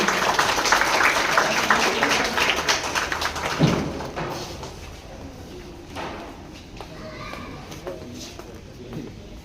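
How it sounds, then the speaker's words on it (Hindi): An audience at a stage event welcomes seated guests with a few seconds of dense, crackling applause. The clapping then thins out into scattered claps and background murmur as voices carry on. "उनके लिए एक बार जोरदार तालियों से स्वागत करिए"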